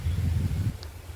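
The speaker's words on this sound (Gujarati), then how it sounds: "જો આ બધો પવનનો અવાજ છે" A gust of wind buffets the microphone with a low rumble for a moment, then fades to a quieter hush.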